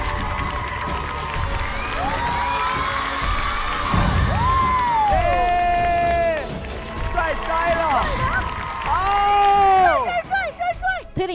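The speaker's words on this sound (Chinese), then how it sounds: "让我们用掌声有请刘谦" A studio audience cheers and applauds to welcome magician Liu Qian onto a Chinese music reality show. A steady crowd roar runs throughout, overlaid by loud swooping musical tones and fanfare-like sounds.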